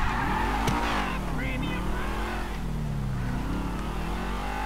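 A car in the video game Grand Theft Auto V drives close by, its engine revving up and down with brief tire squeals, loud and continuous.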